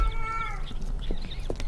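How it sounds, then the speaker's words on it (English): A cat meows in the indie horror game Erie, a single drawn-out, wavering meow that falls in pitch, fairly close and clear, followed by a couple of faint short sounds. "Whenever you hear that sound, there is a dead cat around, and you have to collect it."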